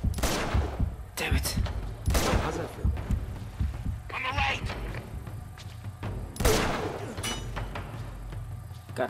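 Gunfire in the Uncharted 2 video game, with several loud, sharp broadband bursts at irregular intervals over a steady low rumble of game sound.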